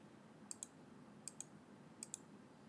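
Computer mouse clicks in pairs, three double-clicks spaced evenly, sharp and close against a quiet hum while working in PLC software for a Siemens S7-300 with an FM350-1 counter module.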